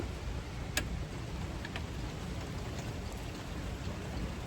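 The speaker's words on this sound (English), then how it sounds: "We're about to take a break, go in the house and wait for the rain to stop in 10 or 15 minutes" Steady rain falls outside a house in a constant dense hiss, with a few faint ticks and drips scattered through it.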